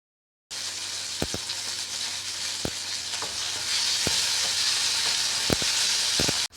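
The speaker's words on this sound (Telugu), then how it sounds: "సేమ్ అదే బాండిల్లో కొద్దిగా ఆయిల్ వేసి టమాటాస్ని బాగా స్మాషీగా వచ్చేంత వరకు ఫ్రై చేసుకోవాలి." Tomatoes fry in a little oil in a pan with a steady, close sizzle, broken by scattered sharp pops and crackles throughout and growing slightly louder midway.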